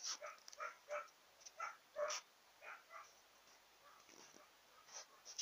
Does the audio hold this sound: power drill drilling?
no